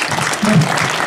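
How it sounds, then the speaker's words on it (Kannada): Applause at a children's learning festival event in Hidkal: a brief, dense burst of clapping from a gathered audience, close and loud, with some voices mixed in. "ಚಪ್ಪಾಳೆ"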